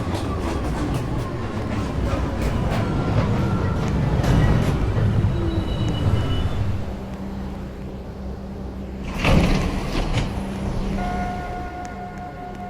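A Downtown Local 1 subway train arriving at a station during the evening rush hour, a loud, continuous rumble of wheels and motors that swells near the middle, then settles into a steady hum with a faint high whine toward the end.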